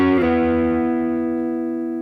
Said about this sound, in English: I'm picking 2 notes at once and they're both sliding up, and if I do a slide up and down